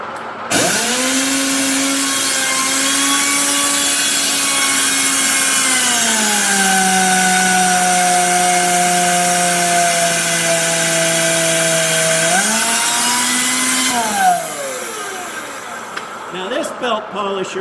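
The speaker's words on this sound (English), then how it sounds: "Now this belt polisher I built back in 1987." A homemade belt polisher, built in 1987, runs steadily against slow-turning work on a lathe, a loud continuous motor whine that drops in pitch midway, rises again, then winds down near the end.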